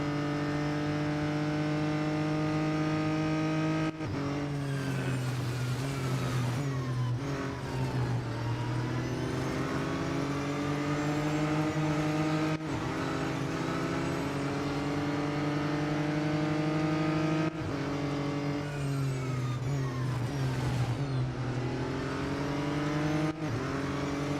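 Race car engines in the Real Racing 3 video game drone steadily through a multiplayer race, pitches climbing through the gears and dropping sharply at shifts roughly every five seconds, loud and continuous with no talking.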